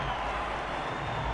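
Crowd at Safeco Field during a 2001 Mariners baseball game, a dense, steady roar of cheering voices filling the ballpark, loud and continuous.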